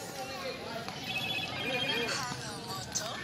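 A phone ringtone plays a repeating electronic melody at moderate volume while voices talk over it in the foreground.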